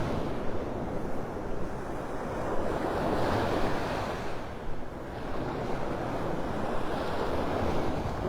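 Churned-up, rough Gulf surf at Delnor-Wiggins beach in North Naples, Florida, gives a continuous broad roar of breaking waves, swelling and easing over several seconds, with some wind rumbling the microphone and no talk.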